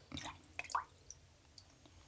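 Water dripping onto a wrist during a grapefruit-scented hand care treatment, heard as a few soft, close drips and squishy splashes clustered early, then quieter faint drops.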